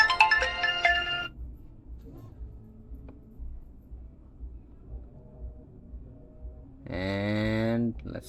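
A Xiaomi Smartband 10 plays a Bluetooth call notification ringtone: a bright melodic chime at the start, quiet room noise, then a louder repeating ringing tone near the end.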